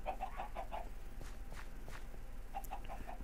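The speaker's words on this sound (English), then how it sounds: "Wish there was a way to silence the damn chickens." Minecraft chickens cluck in short, repeated bursts against a low steady hum, with a pause of scattered faint noises between the clucking runs.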